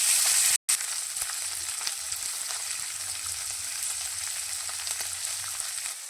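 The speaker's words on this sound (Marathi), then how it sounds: "तर याच्यामध्ये आपण पावट्याच्या बिया मीठ टाकून चांगल्या प्रकारे परतून घेऊ" Pavta bean seeds with salt frying in hot oil in a pan, a steady close sizzle that continues unbroken after a brief cut near the start, with no talking.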